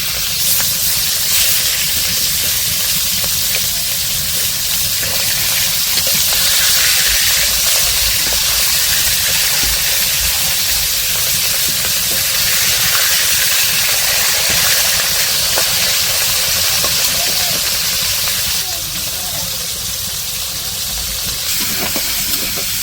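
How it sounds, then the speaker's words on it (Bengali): Fish frying in a pan in a village kitchen, a steady broad hiss and sizzle running continuously at even loudness throughout. "এই যে মাছগুলো ভাজা শেষ"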